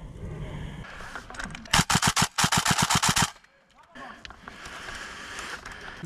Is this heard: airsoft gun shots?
yes